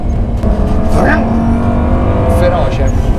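A Lamborghini Superleggera engine blips and roars on downshifts, with rising and falling revs heard from inside the car under loud, excited talk.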